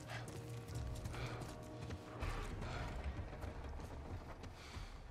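Horses in the video game The Last of Us Part 1 clip-clop at a steady gait, faint hoofbeats repeating with a soft whinny in the mix and no speech.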